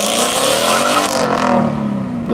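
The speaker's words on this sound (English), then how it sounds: "Because the Roush is heading out on track," A loud Roush race car pulling out onto the track at a morning lapping event, its engine revving hard and close with a rising, roaring tone that eases off at the end, no voices.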